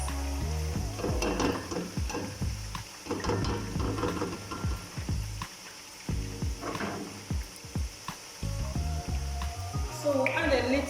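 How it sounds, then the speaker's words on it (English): Onions frying with curry powder in a pot for stew, a steady sizzle broken by repeated scraping, clicking stirs, while someone talks throughout. "So add a little curry powder to fry the onions with"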